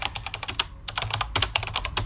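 Rapid keyboard typing, a steady stream of crisp key clicks close up, with a brief pause partway through before the tapping resumes.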